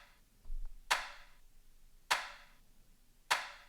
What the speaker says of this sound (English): if you were to hit a rim shot on a marching snare drum